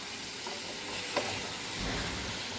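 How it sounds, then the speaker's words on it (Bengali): Meat and spice masala fry and get stirred in a pot, a soft, continuous sizzle with a single light clink of the spoon, fairly faint and steady, with no voices. "আর একটু একটু করে জল দেবো আর এটা কষাতে থাকবো।"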